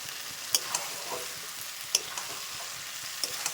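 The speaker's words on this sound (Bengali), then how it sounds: "এবার সব কিছু ভালো করে মাখিয়ে নিতে হবে" Egg and potato curry being stirred in a pan with spices and a little coriander leaf, soft scraping and light sizzling with a few sharp utensil clinks, steady and fairly quiet, no talk.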